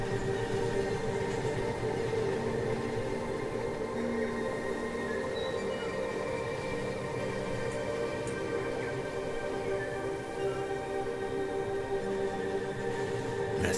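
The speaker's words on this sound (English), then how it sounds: "The old Class 43 Intercity 125." A Class 43 Intercity 125 diesel train in the railway game Rolling Line rolls by with a steady, droning engine hum and rail rumble that stays even and moderately quiet throughout, with no talking.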